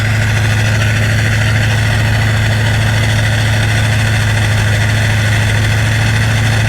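Loud, steady car engine idling up close at the exhaust, a deep throbbing rumble with airy rush on top, no voices.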